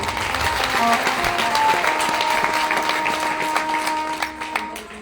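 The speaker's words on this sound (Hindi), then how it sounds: "इनके लिए तालियां बजा दें।" A crowd at a Shrimad Bhagavat Katha religious gathering claps together, a sustained wash of many hands at moderate volume with steady tonal music or drone sounding underneath, easing off toward the end.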